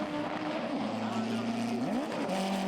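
A front-wheel-drive drag race car makes a hard launch at a drag series event, its engine note climbing and shifting in loud, sustained tones while a commentator talks over it.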